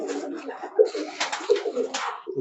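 Pigeons in a loft give soft, throaty coos in short repeated bursts, close by and fairly quiet, with faint rustling between calls.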